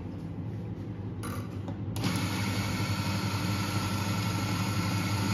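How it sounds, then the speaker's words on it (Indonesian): A Eureka electric grinder starts grinding 18 grams of coffee beans, a motor whir that jumps to a louder, steady high-pitched grinding roar about two seconds in and holds, with no voices. "Terus grindernya saya pakai Eureka ya."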